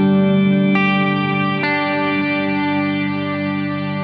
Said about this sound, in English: Again, these are the big verb sounds.